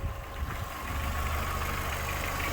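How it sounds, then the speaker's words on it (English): Car engine idling with the hood open, a steady low rumble and hum holding evenly throughout at close range, with no talk over it. "The engine is on."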